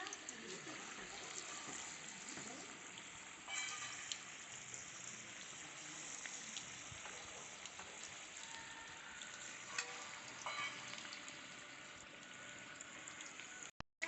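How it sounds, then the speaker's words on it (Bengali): Arrowroot-coated chili chicken pieces fry in medium-hot oil, giving a quiet but steady sizzle with light stirring noises throughout and a brief clatter at the very end. "চিলি চিকেনগুলোকে হচ্ছে ভাজবো তেলের মধ্যে সব ছেড়ে দিচ্ছি"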